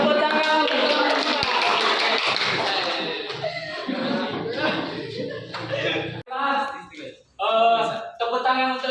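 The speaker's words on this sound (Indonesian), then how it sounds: "tepuk tangan untuk kelompok" Group applause in a classroom activity session, a dense burst of clapping for several seconds that thins out, with a voice talking over and after it.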